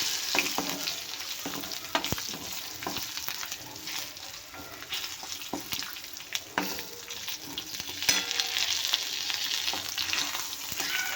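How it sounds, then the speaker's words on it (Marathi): Garlic and a little asafoetida sautéing in hot oil for a chutney tempering, a dense continuous sizzle broken by frequent ladle scrapes and clicks, close up with no talking. "आणि थोडासा हिंग छान परतून घेऊया"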